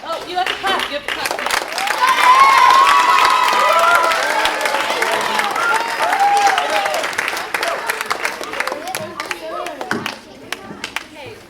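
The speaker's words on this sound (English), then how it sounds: "You have to clap." Audience clapping at a student string and vocal recital for grades four to six, a swell of applause with cheers and children's shouts that builds, holds, then thins to scattered claps, with talk and voices throughout.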